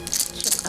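An old woman in a film shakes a rattle, producing a dense, crisp, continuous shaking clatter over a brief moment, with voices faintly mixed underneath.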